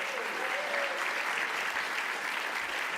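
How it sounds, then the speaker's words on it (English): An audience at the 2025 San José Cornerstone of the Arts Awards applauds the San Jose Arts Commission, with a dense, steady clapping from a large crowd that carries on throughout. "please give the San Jose Arts Commission a warm round of applause, which you've already done"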